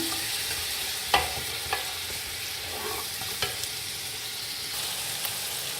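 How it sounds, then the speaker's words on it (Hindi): Chicken pieces frying for rice pulao in a pan, a steady close sizzle with a few sharp clacks of a spoon stirring against the pot, and no voices. "चिकन डाल के 2 से 3 मिनट मैंने इसको भून लिया"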